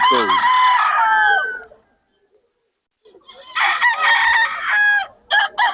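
A stag rooster at a festival expo crows loudly and close, one long cock-a-doodle-doo, then a short silence before another burst of crowing and clucking.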